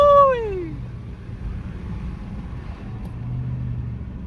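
A Dodge Charger R/T with a 3.0 Whipple supercharger gives a short sharp rev that falls away quickly, leaving a low, steady engine rumble idling nearby with no voices.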